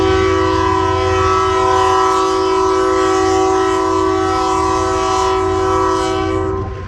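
A northbound coal train rolls past on the main line, its loud, sustained horn-like tonal drone steady and close throughout with a rumbling undertone of wheels and cars.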